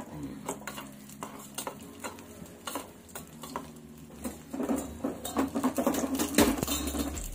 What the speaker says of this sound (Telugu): రైస్ ఉడుకుతుంది ఇంకా అక్కడ నుంచి మూత తీసి ఉడకబెట్టుకోవచ్చు